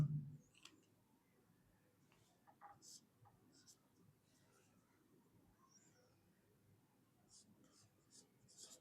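A teacher writes a definition for an ecosystem lesson, with faint scratchy strokes and taps coming in short bursts against a quiet background.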